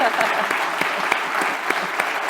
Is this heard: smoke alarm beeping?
no